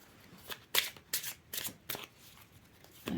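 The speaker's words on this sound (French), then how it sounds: "je suis en train de mélanger mes cartes là" Tarot cards being shuffled by hand: a series of quick, crisp riffling bursts at a steady rhythm, close and fairly quiet.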